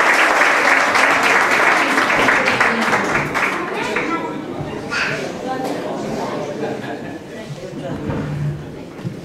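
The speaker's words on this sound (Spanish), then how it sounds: "vamos a recibirle con un fuerte aplauso" A live audience at a cultural centre in Talaván, Extremadura claps loudly to welcome a singer, strong applause fading gradually while voices talk over it.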